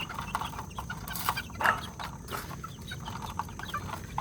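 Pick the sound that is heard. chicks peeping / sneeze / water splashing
chicks peeping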